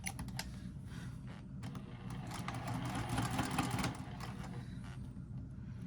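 A sewing machine runs steadily while stitching a pouch lining, a fast, low mechanical whir with rapid needle clatter that grows a little louder midway, heard close and without voices.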